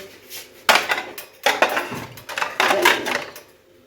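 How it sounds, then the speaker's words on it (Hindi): Dishes and plates clatter as they are set out in a home kitchen, several sharp bursts of clinking crockery and cutlery in close succession, loud and near with no talk. "बर्तन जो है ना, आवाज़ आएगी काफ़ी"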